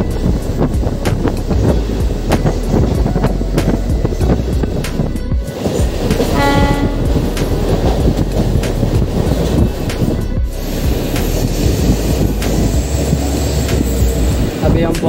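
Mumbai Western Railway local train running between stations near Santacruz and Bandra in rain: a loud, steady rumble and clatter of wheels on track throughout, with brief squeals and a faint voice inside the carriage.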